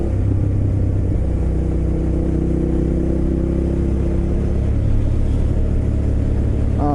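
A motorcycle is ridden at moderate speed over gravel and road, its engine a steady loud rumble with wind noise, holding an even pitch throughout.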